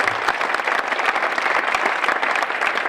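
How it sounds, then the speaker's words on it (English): An audience at a conference talk breaks into steady, dense applause, the clapping continuous and fairly close throughout. "can we just do that round of applause thing for Peter?"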